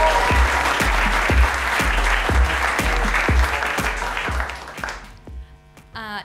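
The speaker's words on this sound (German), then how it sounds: "Applaus bitte" Audience applause at a youth poetry slam, a crowd clapping with a steady rhythmic beat running through it, fading out near the end as the room settles.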